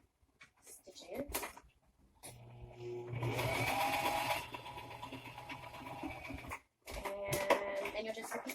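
Sewing machine stitching a homemade fabric face mask with a filter pocket, a steady mechanical whir running for several seconds and then resuming after a short pause, with a faint voice nearby.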